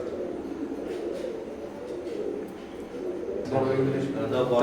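Teddy pigeons, an imported Oman blood-line pair, coo in a low, continuous murmur throughout, growing slightly louder and busier near the end.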